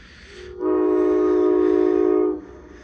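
A single long, steady diesel locomotive horn blast at a road crossing sounds for about two seconds, loud and sustained, with no voices.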